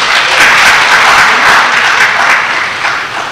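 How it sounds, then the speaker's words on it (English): A loud round of applause from the audience at a university inaugural lecture, dense continuous clapping throughout, close and full, tapering slightly at the end. "Please let's give a round of applause"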